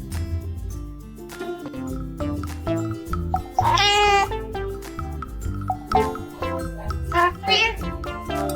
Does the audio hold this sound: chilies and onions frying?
no